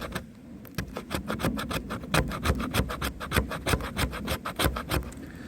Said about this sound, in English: I'm just moving the piece of fat wood back and forth, trying to get, as many shavings off as I can